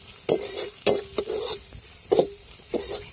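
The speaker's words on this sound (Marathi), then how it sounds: "भारी परतला आता मसाला मी." Masala sautéing in oil for a potato chutney, several distinct stirring scrapes against the pan over a quiet sizzle, close and fairly loud.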